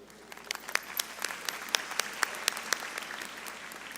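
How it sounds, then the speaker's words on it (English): Scattered applause at a high school graduation ceremony, with separate sharp claps over a soft crowd murmur, moderately distant and fairly faint, lasting a few seconds with no talk over it. "Let's give a big round of applause for our Board of Trustees."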